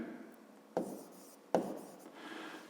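A pen writing a math solution by hand on paper gives soft rubbing scratches, with two sharper taps about a second apart. It is faint and close, and no voice is heard.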